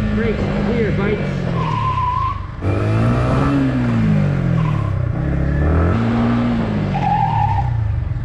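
A Yamaha MT-15 motorcycle brakes hard and skids, its engine note rising and falling in sweeping waves while short, high tire squeals cut through at a few points, loud and close throughout.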